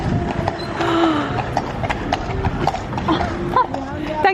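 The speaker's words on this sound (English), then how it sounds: "they are the most beautiful horses I think I've ever seen" Horses' hooves clip-clop on pavement at a Hamburg Christmas market, a steady run of close, fairly loud hoofbeats with a faint whinny, heard beneath someone talking excitedly over the festive street noise.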